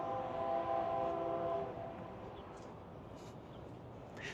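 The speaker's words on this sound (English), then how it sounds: "There goes that train too." A train passes at a distance, a steady rumbling roar with a tonal horn-like hum fading after the first seconds, heard beside a walk from Fremont to the Arts District.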